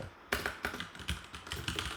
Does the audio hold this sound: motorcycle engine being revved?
no